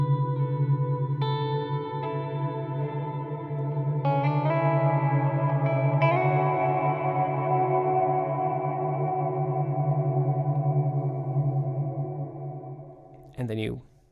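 An electric guitar runs through a Neuro Hub expression pedal filter, its chords ringing over a muddy, sustained low end while the upper tones gradually darken, ending in a brief sweeping burst before fading.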